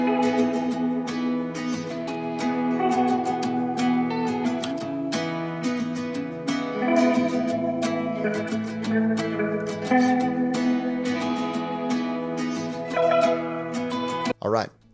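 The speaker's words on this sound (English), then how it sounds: "I like pairing that lead guitar with a heavily modulated guitar line that's panned really hard left" Layered guitars in a dense music mix, a lead guitar panned right against a heavily modulated guitar line panned hard left, sustained chords and melodic lines playing continuously and loud for the whole stretch, ending abruptly.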